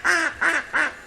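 Ducks beside a canal near Turner Wood give three loud, close quacks in an even rhythm.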